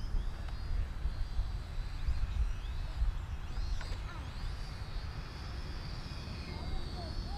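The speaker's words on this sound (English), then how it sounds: "I dig drones. Hard to fly." Small drone flying overhead on a windy day, its high whining motor drone steady and moderately loud throughout, blended with strong low wind rumble and buffeting, no clear talk.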